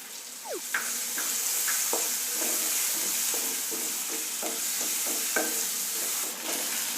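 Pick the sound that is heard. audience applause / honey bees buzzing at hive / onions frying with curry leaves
onions frying with curry leaves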